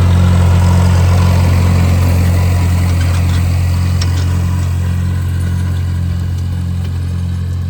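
A gasoline farm tractor engine runs steadily at idle, close and loud, with a deep low rumble and even throb throughout and no talking.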